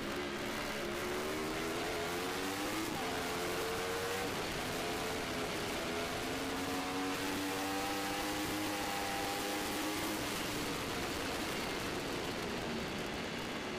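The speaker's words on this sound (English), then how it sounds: "So it's Corey versus Siglin once again here at Buttonwillow Raceway" Open Superbike motorcycles race at Buttonwillow Raceway in an AFM 2014 round, their engines droning and whining with pitches that climb and fall through gear changes, heard over a continuous loud wash of wind and track noise.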